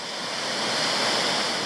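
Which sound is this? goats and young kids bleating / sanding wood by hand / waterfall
waterfall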